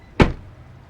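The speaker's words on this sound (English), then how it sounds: "you close the door" A single solid thump of a Nissan Frontier door shutting, short and close, followed by quiet.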